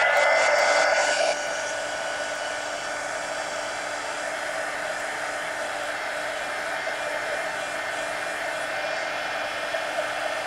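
Hair dryer blowing steadily on a mixed media art journal page, a close, continuous whooshing hiss that runs alone throughout, slightly louder for the first second before settling to an even level.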